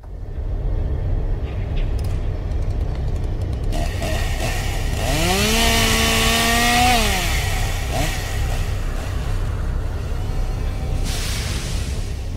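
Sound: chainsaw running

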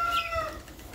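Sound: hens clucking

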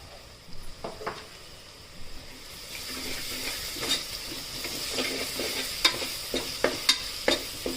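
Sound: frying ginger-garlic paste with turmeric for mutton curry

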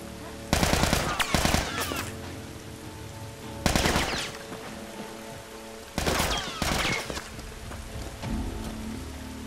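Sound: machine gun fire from enemies in The Last of Us video game

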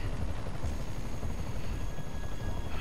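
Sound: helicopter in video game Marvel's Spider-Man

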